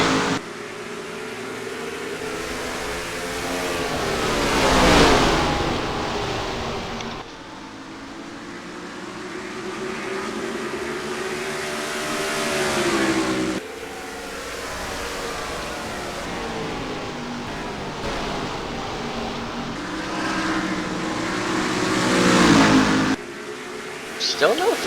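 Race car engines roar around the Richmond short oval in a racing video game, a sustained revving drone that rises and falls with gear changes, under steady commentary talk.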